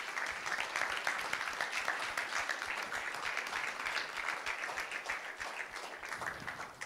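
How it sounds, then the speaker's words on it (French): A church congregation applauds at a baptism service, a sustained, fairly soft round of many hands clapping that carries on for several seconds, slightly distant. "Est-ce qu'on peut les applaudir?"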